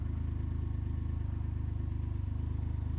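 2021 Can-Am Ryker 900 ACE three-wheeler idling close by after starting, its engine giving a steady, even low throb with a fast regular pulse that holds for the whole stretch, with no talk over it.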